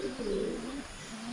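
Pigeons kept by a backyard breeder, a flock of around thirty birds, give a low, steady coo that swells and fades across a short stretch, close and moderately loud, with no voices over it.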